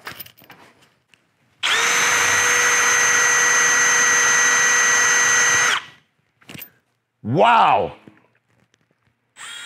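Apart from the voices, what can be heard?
power drill drilling out a screw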